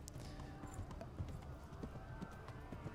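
Horse hooves clip-clopping while riding in the video game Kingdom Come: Deliverance, a quick galloping rhythm at moderate level over a bed of game ambience.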